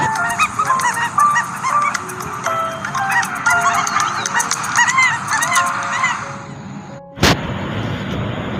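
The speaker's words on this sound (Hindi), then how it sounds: "ये एक ऐसी इकलौती जगह है जहाँ भारतीय स्किमर पक्षी बहुत ज़्यादा संख्या में अपने घोंसले बनाते हैं।" A colony of Indian skimmers calls from nesting grounds on the Chambal river, a dense chorus of loud, honking, overlapping cries that continues steadily before cutting off into a sharp thud and noise.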